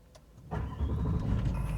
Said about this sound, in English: And then let's just start it up. Foot on brake, hit the button.